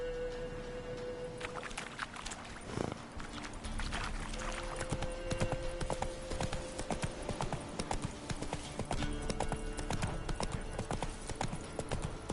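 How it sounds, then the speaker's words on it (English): Hooves of the horse Roach clip-clopping steadily on the ground in The Witcher video game, a continuous walking rhythm under ambient game sounds, close and clear. "Come on, Roach."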